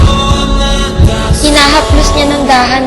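A heartbeat effect in a Tagalog zombie audiobook throbs steadily at low pitch, soft repeated thumps under a swelling musical bed, with no voices.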